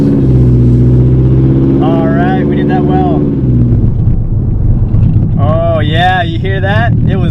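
A 240 car engine drones low and strained as it bogs down while pulling away, with wind buffeting the microphone and someone talking over it in loud, close bursts.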